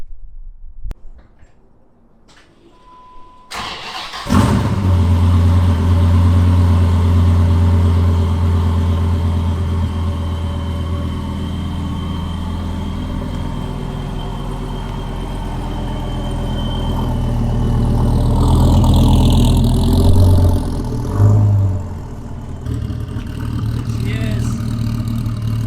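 A white supercharged 2005 Dodge Viper Commemorative Edition starts with a sudden loud engine catch, then settles into a steady, deep, close idle with a brief rev and whine later on.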